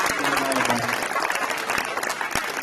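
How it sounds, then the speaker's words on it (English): At a high school signing day, a gathered crowd gives a final round of clapping, dense and close, with distinct sharp claps, a few voices and a brief tone under it early on. "one last round of applause"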